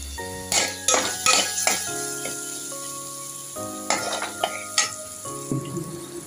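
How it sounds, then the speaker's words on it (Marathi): Carrots, peas and onion sauté together in a pan for buttermilk upma with a soft, ongoing sizzle and repeated stirring scrapes, against a faint steady tonal background. "आता गाजर, मटार, कांदा हे सर्व एकत्र आपण चांगलं परतवून घेऊया"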